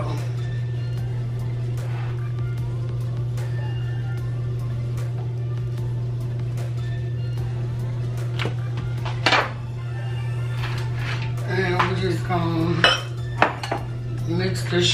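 Shrimp being stirred with garlic, pepper and fajita seasoning in a bowl, giving light clinks and scrapes of utensil against dish over a steady low hum, with a few sharper knocks near the end.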